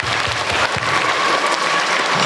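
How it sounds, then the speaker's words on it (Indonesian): An audience at a Ramadan welcome event at an Islamic junior high school claps steadily for a young Quran memoriser. The applause is loud, dense and continuous, with a few stronger claps near the start and no talking. "Tepuk tangan untuk Arumi."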